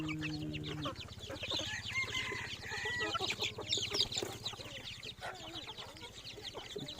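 Chickens cluck close by in a steady run of short calls, with other fowl joining in and a brief voice near the start.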